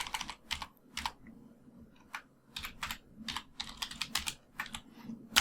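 Typing on a computer keyboard, a close, quiet run of quick key clicks in short uneven bursts with brief pauses between.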